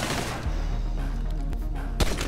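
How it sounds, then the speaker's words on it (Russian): Gunshot headshot in the video game GTA 5 Online, a few sharp loud shots standing out from a dense, rumbling game soundscape. "Точный хедшот."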